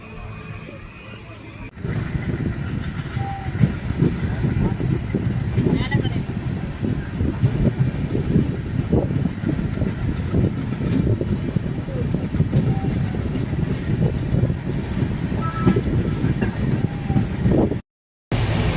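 The Sengottai to Mayiladuthurai Express rumbles steadily along the rails, a continuous heavy roar with faint rhythmic clatter, heard up close from on board for the whole stretch.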